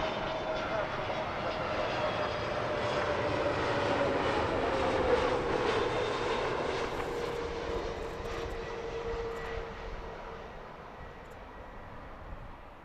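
Airliner landing at Heathrow Airport, a steady, loud jet engine roar with a slowly falling whine that swells and then fades across the approach, with someone talking quietly over it.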